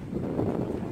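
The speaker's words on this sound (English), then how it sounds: "the wind just picked up again" Wind blows outdoors as a steady, soft low rumble of buffeting against the microphone, continuous and fairly faint for about a second with no voices.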